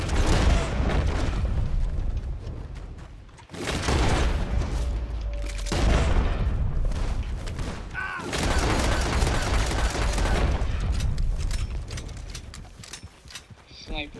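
Bursts of video game gunfire between characters, loud volleys in several separate clusters, with a player talking over parts of the action.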